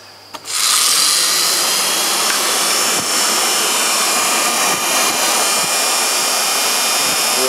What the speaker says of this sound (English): so now we're going to start up our motor